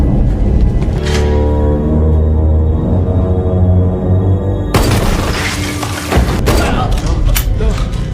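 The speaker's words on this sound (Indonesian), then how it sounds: "si bos memberondong area sekitar dengan senjata beratnya" Heavy weapon gunfire in a crime film's indoor shootout: loud bursts and booms with shattering debris, heard over tense score music, with a sustained rapid barrage in the second half.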